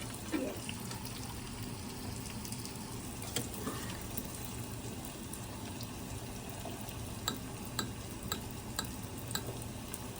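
Water drains from cooked rice, pouring and trickling steadily into a sink, with a low continuous rush and occasional faint clinks, no voices.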